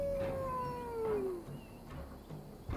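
A dog howls in Assassin's Creed Valhalla, one long sliding wail that falls in pitch and fades within about a second and a half, heard over the game's ambient background.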